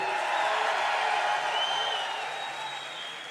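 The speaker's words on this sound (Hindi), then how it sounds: "जरा और जोर से तालियां बजाएं" Audience applause and cheering at the Pakistan Literature Festival in Quetta, a steady dense wash of clapping from a large crowd that holds loud and then eases slightly toward the end.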